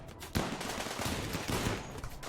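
Gunfire during a siege battle in the video game Rimworld, a dense continuous crackle of rapid shots with a couple of louder bursts, steady and moderately loud with no talking.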